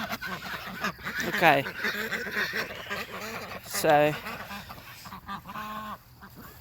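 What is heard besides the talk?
ducks quacking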